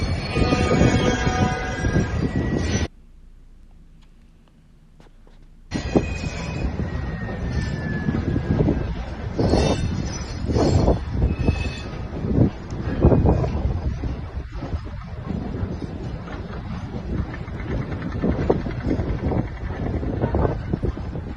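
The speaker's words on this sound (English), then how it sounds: "A huge freight train moving specialist military equipment" A huge freight train hauling specialist military equipment rolls past at close range, a steady loud rumble and clatter of railcars with wind buffeting the microphone, broken by a brief quieter gap early on.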